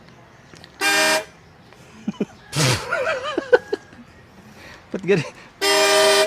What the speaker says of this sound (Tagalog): itong PAA horn na super bass na ngayon ay ayaw nang gumana